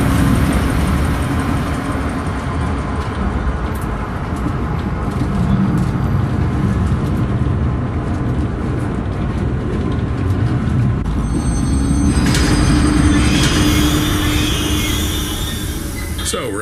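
A train moving in the video game Zoochosis, a continuous loud rumble and rattle of wheels and carriage that holds steady throughout, with some brighter mechanical whine entering near the end.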